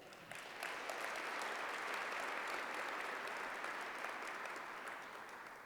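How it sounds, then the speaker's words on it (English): Steady, dense applause from an audience at a school awards ceremony, continuous for several seconds before easing off slightly at the end, with no voices over it. "please give a round of applause to all of our partners and our performers tonight"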